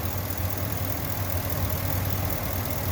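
A 2016 Ford F-350 dually crew cab with the 6.2L gas engine idles steadily, a smooth low rumble held close and even for the whole stretch with no voices over it.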